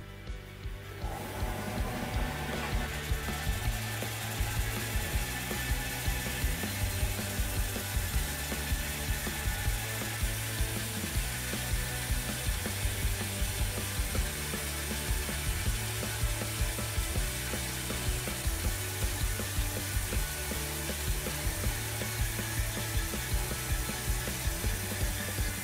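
A Metabo BAS 260 bandsaw, modified to run at a lower speed, cutting through aluminium, with a loud continuous mechanical whir and a regular repeating rhythmic clatter that holds steady for the whole stretch.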